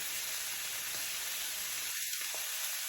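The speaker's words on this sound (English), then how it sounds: "Now this side is seared, so I'm gonna throw a little bit of this Montreal steak seasoning on there." Steak searing in a hot pan, seasoned with Montreal steak seasoning: a faint, steady broadband sizzle hissing throughout, quiet and even, with a soft knock partway through and no speech.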